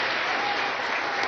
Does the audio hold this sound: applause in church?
yes